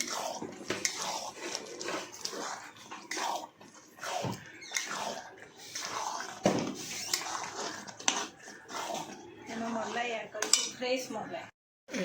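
A metal spoon scrapes and clinks against a cooking pan while paneer butter masala is stirred, giving irregular close clatters and rubs throughout with a few brief pauses.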